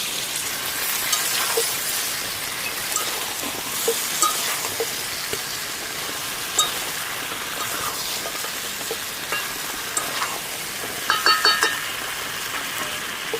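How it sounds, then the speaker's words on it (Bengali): Fried potatoes added to desi chicken curry in a wok, giving a continuous close sizzle with occasional soft stirring clicks and a brief cluster of scrapes near the end, no voices. "এবার আলুগুলো দেবো, ভাজা আলু দিয়ে দেবো।"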